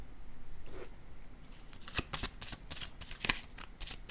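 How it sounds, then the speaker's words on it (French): Tarot-style cards handled on a table during a card reading, with a series of crisp papery slaps and snaps as cards are laid down, several quick close taps in a quiet room. "Je dépose une autre carte."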